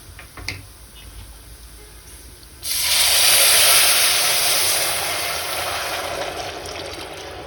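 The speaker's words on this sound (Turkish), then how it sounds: "Şimdi suyunu dökebiliriz." Water gushes into a pot of noodles, a sudden loud hissing pour that begins after a few quiet seconds and then continues steadily, easing slightly toward the end.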